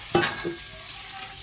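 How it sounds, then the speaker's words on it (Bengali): A little water added to fried, oil-releasing spice paste in a pan, bringing a sharp sizzle and short stirring scrapes that quickly die down, close with no talking. "অল্প করে জল দিয়ে দিলাম।"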